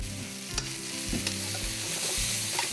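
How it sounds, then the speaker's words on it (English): Cabbage sautéing in a frying pan sizzles steadily while a utensil stirs it with a few clear scraping knocks, close and without talk. "We'll give that a stir and break it up a little bit."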